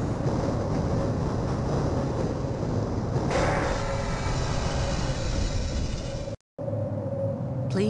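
A train rolls into a station in the 1998 game Half-Life, a steady loud rumble with a rising screech partway through, then a brief dropout and a quieter hum as it comes to rest.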